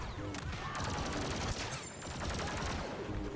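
Rapid E-11 blaster fire from a Star Wars Battlefront II match, dense bursts of shots layered with explosions and game effects, loud and continuous throughout.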